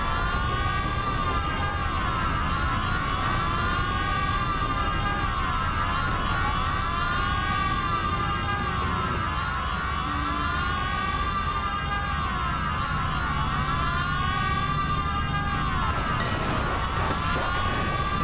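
Several police car sirens wail in overlapping, looping sweeps during a chase in the video game Mafia, loud and constant for the whole stretch with engine rumble underneath and no talking.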